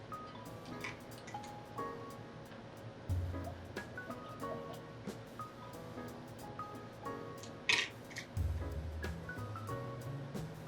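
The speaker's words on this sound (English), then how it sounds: "let me take a drink of water real quick" Someone drinks water from a new water bottle with ice inside, producing soft liquid gulps and sloshes with a brief rattle of ice near the end, close and intimate with no talking.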